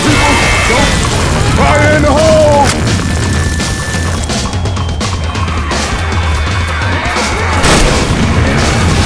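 A grenade explosion in the Left 4 Dead 2 video game, a loud booming crash within dense, chaotic combat noise that fills the whole stretch, with shouted game voices.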